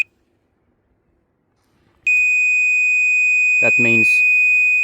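A Vevor rotary laser level gives a loud, steady electronic beep tone that starts suddenly and holds continuously, while someone talks over it.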